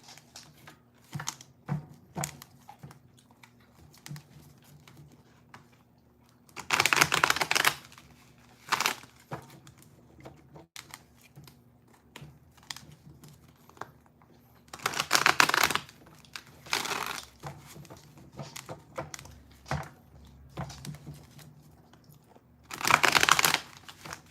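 Tarot cards being shuffled at close range, with three loud bursts of riffling spaced through the clip and soft card handling and tapping between them, with no talking.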